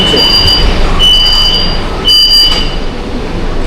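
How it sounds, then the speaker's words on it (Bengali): Kolkata Orange Line metro train pulling out of Beleghata station, with a loud continuous rumble and thin high wheel squeals that come and go. "ট্রেন ডিপার্চার করছে বেড়েঘাটা মেট্রো স্টেশন থেকে"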